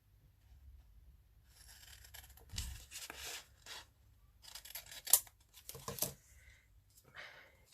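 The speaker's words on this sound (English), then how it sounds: "Let me just cut round that for a minute." Scissors cut paper around a picture for a Christmas collage gluebook, quiet close snips and rustles in short bursts with pauses between them.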